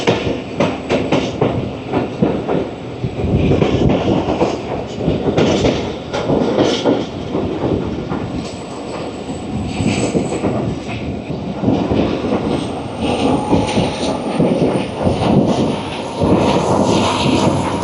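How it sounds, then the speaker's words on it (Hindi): The Shah Latif Express rumbles loud and steady through the Thar Desert, its engine roaring over continuous clickety-clack of wheels on rail, heard from on board with no talk. "इंजन की गरजदार आवाज़ जो है वो अब तक आ गई है।"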